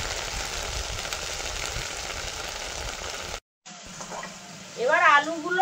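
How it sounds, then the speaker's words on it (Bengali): Spiced water mixture of turmeric, coriander and red chilli powder poured into hot oil, a loud steady sizzle that cuts off abruptly, then quieter bubbling followed by a voice speaking. "এবার এই মিশ্রণটা তেলের মধ্যে দিয়ে দেবো।"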